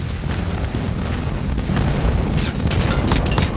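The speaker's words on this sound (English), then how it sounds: "Friendly airstrike incoming." Airstrike explosions in a multiplayer shooter video game arrive as deep, rumbling booms that overlap into a continuous low roar, with sharp crackling bursts layered on top partway through.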